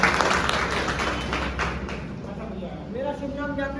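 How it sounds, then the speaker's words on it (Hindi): A crowd at a Happy Life company meeting claps together in a dense, steady burst of applause close by, with voices mixed in underneath. "दम लगा के। तालियां।"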